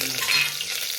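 Garlic chutney, curry leaves and tomato fry in a pan for Hakka noodles, a loud, close, continuous hissing sizzle with a brief sharper crackle.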